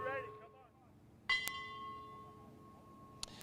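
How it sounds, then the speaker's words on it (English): A single bell strike from protesters at federal executions in Terre Haute rings out and decays slowly, with a faint sharp tap later; quiet, somewhat distant, over low background noise. "Those bells you can hear are still ringing from the protesters at this time."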